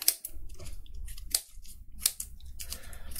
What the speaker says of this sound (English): I don't know how far I get with the scissors here, but I try to cut out this shape now